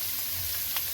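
Carrot, beans and capsicum fry in a pan with a short burst of even sizzling and one brief stir scrape near the end, without voices.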